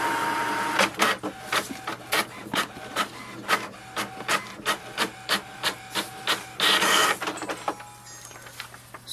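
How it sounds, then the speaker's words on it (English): HP Envy Pro 6400 printer printing an information page: a rhythmic series of mechanical clacks and whirring feed strokes, repeating roughly every half second, with a longer grinding passage near the end, close and clear with no talking. "it will send a command for the printer to print the printer information page"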